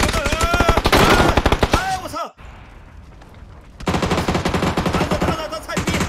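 Bursts of rapid automatic gunfire from a shooting video game, loud and dense at first, dropping to near silence, then resuming as sustained firing, with players' voices shouting over the shots.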